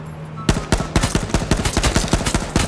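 Rapid automatic gunfire in H1Z1, a loud burst of closely spaced shots that starts abruptly and keeps hammering in a fast, even rhythm.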